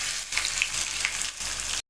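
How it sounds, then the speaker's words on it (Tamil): Ginger and onion paste sizzles hard in hot oil with mustard seeds and dried red chilies, a dense, steady frying hiss up close that carries on with no talk and then cuts off abruptly. "இப்போ வரமிளகாய் சேர்த்துக்கிறேன். இது கூடவே நம்ம அரைச்சி வச்சுருக்க இஞ்சியும் வெங்காயமும் சேர்த்துக்கிறேன்."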